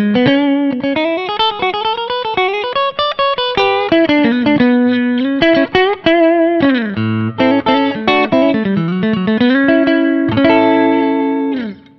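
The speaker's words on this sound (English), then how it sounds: "So there's your bridge pickup." Distorted electric guitar through Kinman P90-Bucker noiseless bridge pickup, playing a continuous melodic line, bright and cutting with effects and a touch of reverb, loud and steady throughout.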